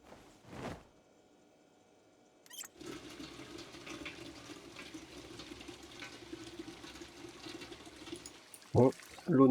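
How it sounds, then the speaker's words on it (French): In the Project Zomboid video game, water pours steadily into a cooking pot for about six seconds, a continuous rushing fill that begins after a short click, with someone speaking briefly before and after. "On va remplir la marmite d'eau."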